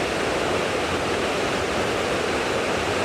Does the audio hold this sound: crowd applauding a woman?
no